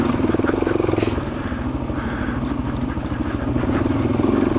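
A dirt bike rides over a rocky boulder-field trail on the way to Eldora Mountain, with a steady, loud engine drone and continuous rattling and clattering from the tyres on stones.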